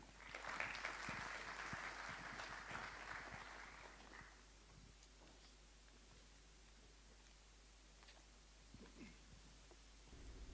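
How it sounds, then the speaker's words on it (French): Audience applause at an opening ceremony, a faint, distant patter of many hands that swells briefly for about four seconds and then fades into quiet room noise. "si possible, de vos applaudissements."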